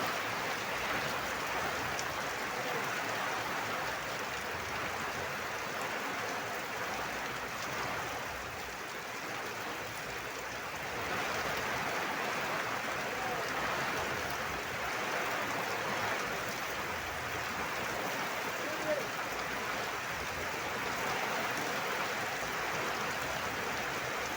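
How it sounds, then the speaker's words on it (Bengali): Heavy downpour drumming on a tin roof, a dense, steady hiss of rain that holds unbroken and fairly loud throughout, with no voices. "মুসুলধারে বৃষ্টি পড়ছে"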